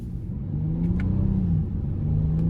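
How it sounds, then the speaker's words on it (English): A 2024 Honda Odyssey Elite minivan with a 3.5 V6 and 10-speed automatic pulls away from a red light, its engine drone rising steadily under a low, continuous rumble heard from inside the cabin. "I'm gonna give it a little pull coming out of this red light."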